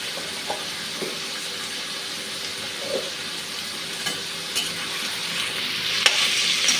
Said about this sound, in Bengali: আলুটা আগে ভাজতে দিয়ে দিচ্ছি।